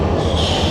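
A locomotive moves up to couple onto a passenger rake at a station, giving a loud, close, steady low rumble of rail machinery with no voices.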